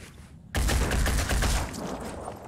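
Soldier firing a weapon in the tactical video game Phoenix Point: a sudden loud burst of rapid gunfire erupts after a quiet moment and rattles on densely, close and harsh, with no talking.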